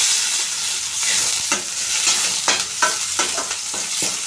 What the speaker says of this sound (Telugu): కరివేపాకు, సాల్ట్ కొంచెం, ఇప్పుడు ఒకసారి కలుపుకోవాలి.